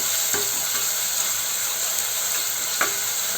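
Crushed shallots and green chilli sizzle steadily in a hot pan for a pomfret chilli curry, with a few scraping stirs of a spoon cutting through the frying hiss, close and alone.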